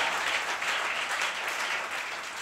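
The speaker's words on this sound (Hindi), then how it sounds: "यहां तालियां बनती है" Steady audience applause from a crowd at a Hindi poetry recital, a dense wash of clapping held at an even level from start to finish with no voices above it.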